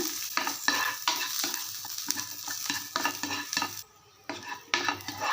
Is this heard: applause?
no